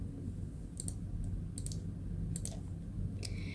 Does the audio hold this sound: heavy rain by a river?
no